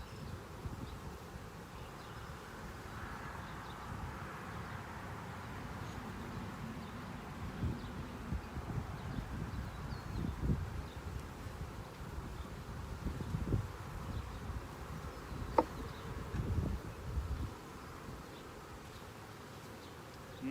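A dense, continuous hum of honey bees buzzing around an open hive, close and steady throughout, with occasional rustles and handling noises from the beekeeper; no talk.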